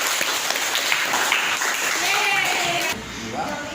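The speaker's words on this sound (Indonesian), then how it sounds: "Aplaus." A classroom group claps together in steady, dense applause for about three seconds before it drops off abruptly, with voices talking faintly underneath as it fades.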